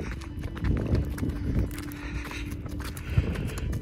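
Burros walk along a trail at the Boquillas crossing in Big Bend National Park, their hooves clip-clopping in an irregular stepping rhythm with some scraping, close and moderately loud.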